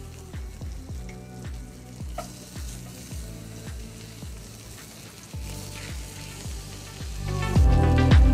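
Sturgeon fillet sizzling skin-side down on a grill, a steady crackling sizzle with regular rhythmic scraping or tapping, growing louder and denser near the end, no talking.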